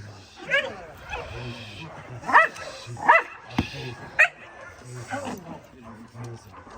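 A young dog barks and yips in short, high bursts scattered across several seconds, close by, with a person talking encouragingly in between.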